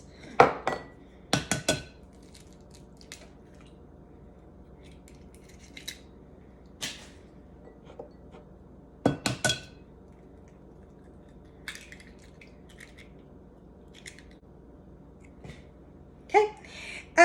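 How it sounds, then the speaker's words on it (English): Two eggs are cracked for waffle batter, giving a few sharp taps and clicks against a bowl with a soft crack and some light clinks scattered through otherwise quiet kitchen sound, with no talking. "Then it said 2 eggs, so we're just going to crack those."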